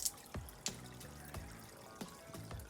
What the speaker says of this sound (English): clean your left hand,